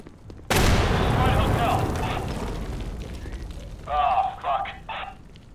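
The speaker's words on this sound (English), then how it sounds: "I'm throwing a frag grenade!" A frag grenade in the game Insurgency bursts with a sudden loud blast that rumbles and slowly decays, followed by a few shorter cracks of gunfire and voices shouting in the background.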